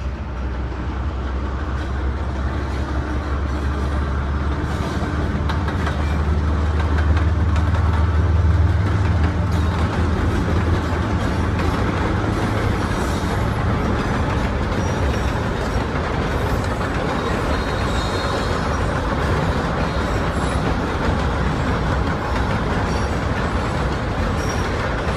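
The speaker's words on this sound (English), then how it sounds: "We are getting ready to see the train passing over the" A train rolls steadily across the Blue River Bridge in a park. The low rumble and clatter of rail cars carry on for about twenty-five seconds, with no voices.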